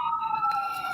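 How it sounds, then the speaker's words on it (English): An ambulance siren outside holds a steady, fairly faint electronic wail heard through walls for a short moment, with no voices over it. "There's ambulances going by all day."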